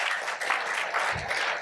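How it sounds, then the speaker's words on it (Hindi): Audience clapping at a yoga and Ayurveda campaign gathering, a steady dense patter of many hands held at an even level for the whole stretch with no voices. "ताली बजाओ इनके लिए"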